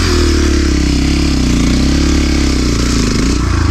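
A loud, close ported 172FMM motorcycle engine runs steadily with a deep, throbbing exhaust rumble, pulsing slightly as the revs shift.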